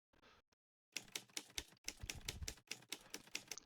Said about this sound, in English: Old typewriter key clicks.